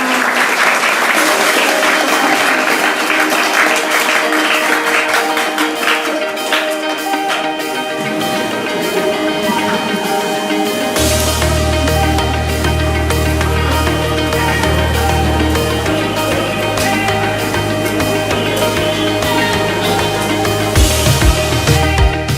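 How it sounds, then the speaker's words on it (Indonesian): Students at a school health outreach session in Keling, Jepara, break into loud sustained applause, dense clapping running the whole stretch, while music with a steady tonal bass enters partway through underneath. "Tepuk tangan untuk kita semuanya."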